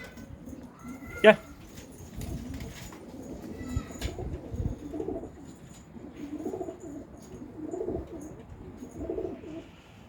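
A pigeon coos in soft, low phrases repeating every couple of seconds, with a brief sharper sound near the start and faint background noise.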